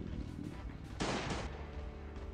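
Gunfire in the mobile survival game Last Day on Earth: Survival comes as a loud, broadband burst of shots in the middle of the clip, against a dense background of game noise.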